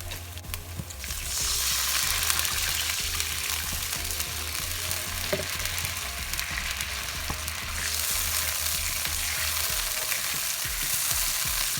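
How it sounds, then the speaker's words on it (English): Stock mixture for beef and broccoli sizzling and bubbling in a hot pan, a steady loud fry that swells after the first second and holds strong throughout, with a low hum underneath. "I'm adding my stock, okay, the mixture I did before"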